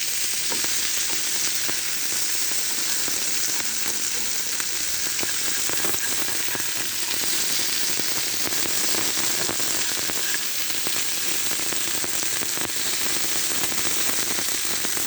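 Sundarbans crab and sliced bitter gourd frying in a pan make a dense, steady sizzle like rain on a surface, with faint stirring scrapes throughout, close and constant.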